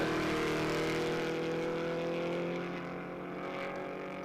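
A GT4 race car engine roars with a strong, sustained tone at Las Vegas Motor Speedway, steady at first and then easing slightly as it pulls away.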